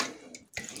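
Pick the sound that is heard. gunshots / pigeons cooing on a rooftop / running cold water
running cold water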